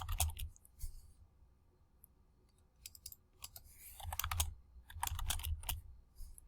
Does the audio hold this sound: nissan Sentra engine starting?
no